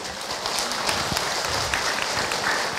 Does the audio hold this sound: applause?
yes